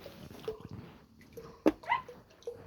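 A dog gives a brief, high whimper during a bath, with a short sharp yelp nearby and faint dripping water around it.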